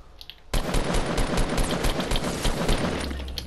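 Rapid automatic gunfire in the Fortnite video game breaks out after half a second of near quiet, a loud, dense burst of overlapping shots that continues to the end and fades slightly at the close.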